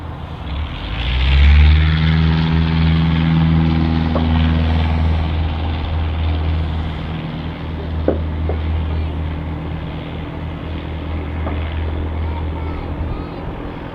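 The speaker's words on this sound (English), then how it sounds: "And there was the touch and go. You've seen it touch down, the flaps adjusted." An aircraft doing a touch and go at Manchester City Airport, a droning propeller engine that swells loud early and then holds a steady hum as it passes and climbs away, with a person talking over it.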